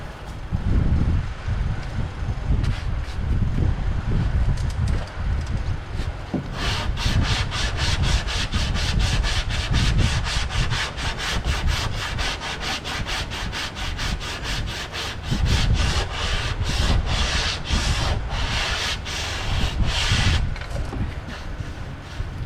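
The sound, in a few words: sanding body filler on car bodywork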